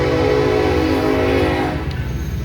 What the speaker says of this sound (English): they live next to the train